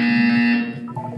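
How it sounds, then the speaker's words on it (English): A loud, steady electronic buzzer from the video game Portal 2 sounds alone, holding for about half a second before cutting off into faint low background tones. "When you hear the buzzer, look up at the ceiling."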